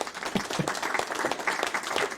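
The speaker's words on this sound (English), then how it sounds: "Gets the clap." A small crowd claps in a short, steady burst of applause, close and fairly even in loudness throughout.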